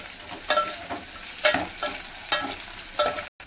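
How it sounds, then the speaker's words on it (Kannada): Onion sizzles in a pan with red and green chillies for rasam, soft frying hiss punctuated by repeated stirring scrapes at a steady pace, close and quiet with no talking. "ಈರುಳ್ಳಿ ಸ್ವಲ್ಪ ಫ್ರೈ ಮಾಡ್ಕೊಳ್ಳೋದ"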